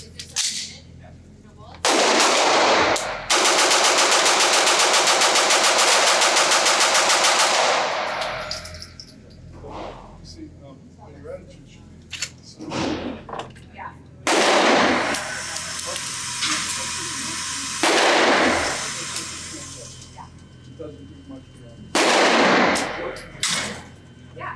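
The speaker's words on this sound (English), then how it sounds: "I just got to do a 35 round mag dump" Bursts of rapid fire from a Sig Sauer MPX K 9mm pistol emptying a 35-round magazine, long dense strings of close, loud shots broken by short pauses, with faint sounds of handling in between.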